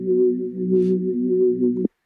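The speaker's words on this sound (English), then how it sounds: "I loaded up a wobble bass." Wobble bass synth patch in a liquid drum and bass track, a steady mid-range tone with subtle wavering that sustains for under two seconds, then cuts off sharply.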